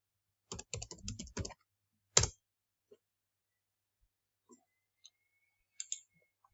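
Quick bursts of computer keyboard typing, a rapid run of close clicks followed by a single louder keystroke and a few sparse taps in an otherwise quiet room.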